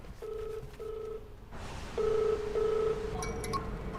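A mobile phone rings indoors with a repeated electronic ringtone: short, steady beeping tones in bursts, louder in the second half, with no talking over it.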